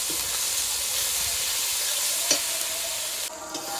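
Spices with salt and turmeric sizzle steadily in a hot pan for a jackfruit and prawn curry, a continuous frying hiss broken by a few soft scrapes of a spoon, close and fairly loud with no talk.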